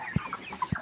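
Broiler chickens on a poultry farm cluck in two short, close bursts over a steady murmur of flock noise.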